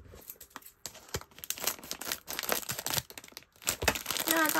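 Crinkly plastic wrapping being torn and crumpled open on a Kirby blind-bag toy package, a busy run of close rustling and ripping that swells and fades, with faint chimes near the end.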